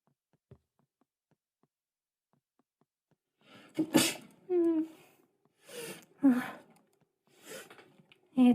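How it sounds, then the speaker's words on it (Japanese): A VTuber gives several breathy gasps and catches of breath in short bursts, building into a close, sharp sneeze near the end. "あ、くしゃみ出そう。"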